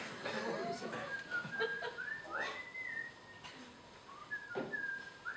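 A person whistles a tune in short bright notes with rising slides, a few pauses and faint background murmur underneath.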